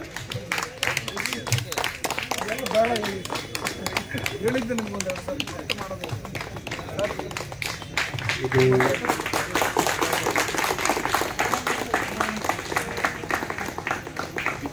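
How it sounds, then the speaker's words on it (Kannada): An audience at a gathering at the Kunigal post office claps in dense, continuous applause that swells slightly midway, with a speaker's voice over the clapping. "ಜೋರ ಚಪ್ಪಾಳೆ ಬರಲಿ"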